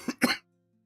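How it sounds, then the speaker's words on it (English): Two quick, harsh coughs in a brief burst from a single person, close and loud, cutting off abruptly into silence. "Fucking coughing fit."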